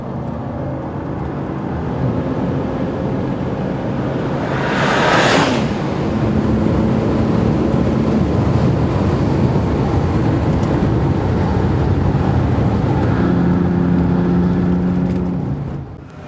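Bentley Continental Supersports with a quick-shift gearbox lapping a track: steady, loud engine and road roar throughout, with a rising sweep mid-pass and tonal engine notes shifting as gears change, no talk.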